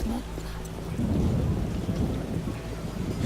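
Rolling thunder rumbles low and steady beneath a continuous wash of rain in the video game The Witcher, loud and close, with no voices.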